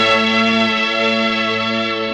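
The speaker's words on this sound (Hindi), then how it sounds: "फोन की घंटी बज रही है" A loud, steady ringing tone, like a telephone ringing, sustained without a break for a couple of seconds.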